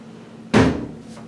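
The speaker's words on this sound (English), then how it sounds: "And that locks in the door" A hotel room door at the ARIA Casino & Resort in Las Vegas is pushed hard and latches with a single loud close thump, then a brief rattle over a low steady room hum.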